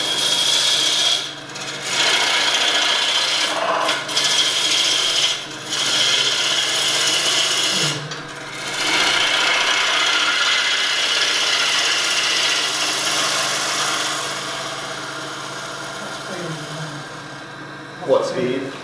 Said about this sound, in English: on a bigger lathe with more horsepower on it, you can take off like a 1/2 inch or 3/4 of an inch in one pass